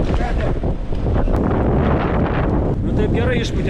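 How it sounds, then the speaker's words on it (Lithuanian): Strong wind roars and whistles across a sailboat at anchor in northern waters, a loud continuous rush buffeting the microphone, with faint water noise beneath and no clear talk. "O švilpauja vėjai."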